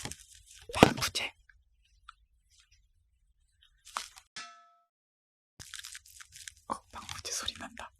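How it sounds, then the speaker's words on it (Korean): A small desiccant packet is crinkled and squeezed up close in a quiet room, giving crisp crackling bursts separated by silent pauses, with a soft voice briefly audible. "방부제 소리 난다"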